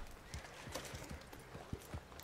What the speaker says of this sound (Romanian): Văd un cal nebun în fundal.